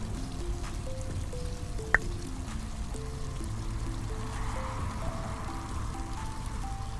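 Water pouring steadily as a pool is drained in Pool Cleaning Simulator, a continuous rushing flow with one sharp click partway through.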